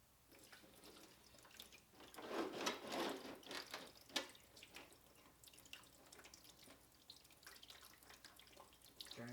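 Coolant draining from a 2008 Kawasaki ZX6R motorcycle and splashing onto the exhaust header, heard as faint, continuous trickling and dripping with a slightly louder patch early on.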